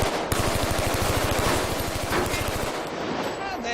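Rapid machine gun burst firing real bullets, a fast steady rattle of shots lasting over two seconds, loud and close, with a voice briefly audible near the end.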